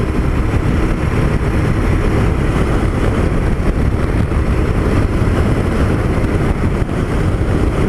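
A motorcycle loaded with wide panniers rides along an open road on a moto-camping trip. A constant loud rumble of engine and wind fills the whole stretch with no breaks and no voices.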